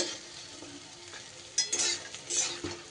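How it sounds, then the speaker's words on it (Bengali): Lentil fritters frying in oil in a wok, a low sizzle with a few louder scraping clatters near the end as they are lifted out. "বড়া কিন্তু খুব সুন্দর করে আমার ভাজা হয়ে গেছে এবার বড়াগুলো আমি তুলে নেব কড়াই থেকে"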